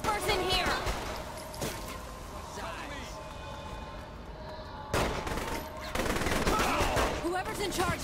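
Gunfire from snipers in the Saints Row The Third video game, with repeated sharp shots and bursts over a dense game soundtrack, loudest near the start and again after the midpoint.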